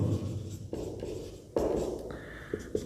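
Pen or marker writing out a geometry solution on a board or page during a Hindi-medium Class 9 lines-and-angles lesson: several short scratchy strokes in bursts, close and fairly quiet, with no speech.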